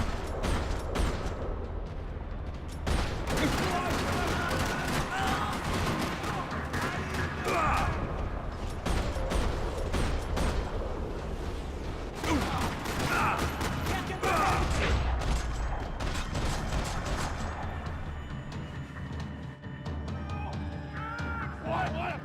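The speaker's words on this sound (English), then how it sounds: "Another parking lot rattling with gunfire." Gunfire rattles through a parking lot in the Max Payne 3 video game, a dense, continuous barrage of shots that stays loud for the whole stretch before easing slightly near the end.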